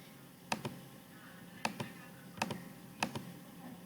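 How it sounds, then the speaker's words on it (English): Keys tapped on a calculator, a handful of quiet close clicks in small uneven pairs across a few seconds. "pop out our calculator and type in 100 times tangent of 75"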